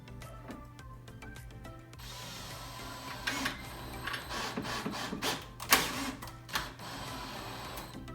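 Power drill driving screws into a Rev-A-Shelf tip-out cabinet tray, heard as several short whirring bursts with brief pauses, fairly close over a steady low hum, with no talking.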